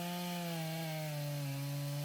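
A chainsaw mill fitted with a ripping chain cuts into a log, producing a faint, steady whining saw tone that slowly drops in pitch as the chain bogs, with no talk.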